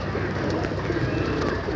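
Pigeons cooing close by, a brief low coo blended into a dense, steady background noise without any clear break.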